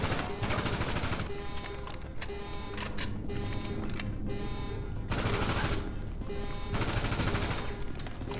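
Sustained rapid gunfire from a short, high-damage gun in GTA V during the Cayo Perico heist, loud and close, coming in dense bursts with brief pauses between them.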